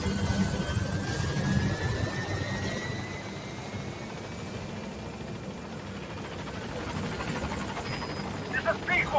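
A support helicopter arriving at a landing zone in Metal Gear Solid V: The Phantom Pain, its rotor drone steady and continuous throughout, moderately loud, with faint higher whines drifting over it.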